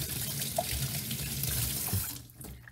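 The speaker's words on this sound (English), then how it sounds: "we're just gonna run some hot water over this. Give it a good wash." Hot tap water runs steadily over the nozzle of a Blichmann Beer Gun at a sink, a close, continuous splashing wash that fades near the end.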